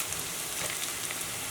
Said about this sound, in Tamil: எண்ணெய் சூடானோடனே நறுக்கின இஞ்சி, பொடியாக நறுக்கின பூண்டு போட்டு நல்லா வதக்கிக்கோங்க